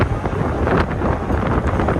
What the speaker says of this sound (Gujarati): તો હવે બોટે સ્પીડ પકડી છે.